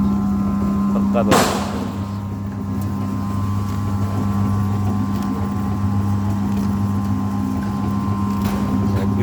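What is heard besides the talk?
feed grinder with 3 kW aluminium electric motor running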